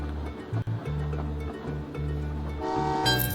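A train arrives in the video game Train Valley 2 with a sustained low rumble, broken by short tonal horn toots, that grows slightly louder toward the end.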